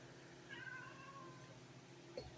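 A house cat meows a couple of times in a kitchen, with short, faint cries partly buried in room noise and a louder chirp near the end.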